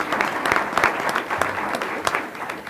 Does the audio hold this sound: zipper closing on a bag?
no